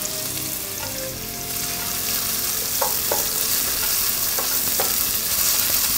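Salt and curry leaves fry in hot oil, a steady bright sizzle with occasional crackling pops and a faint stirring clatter, close and continuous.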